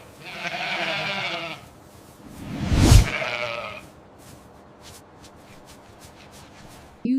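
A Dorset sheep bleats loudly at close range, one drawn-out wavering call, followed by a sharper thump or shuffle and quieter rustling in a farm setting.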